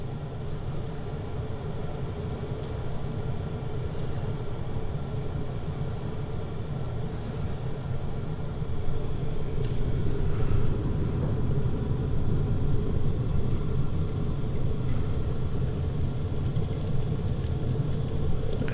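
Water heats in a Hauz LED glowing electric kettle, a continuous broad rumbling hiss that swells slightly louder midway as bubbling builds, steady and close with no talk.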